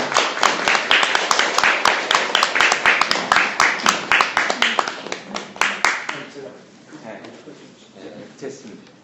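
Audience at a peace concert lecture clapping in an even, rhythmic beat for about six seconds, loud and close, then trailing off into scattered claps and low murmuring.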